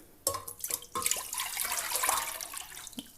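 Cold water pours and splashes into a container in a steady rushing stream after a few sharp clinks, close by with no talking.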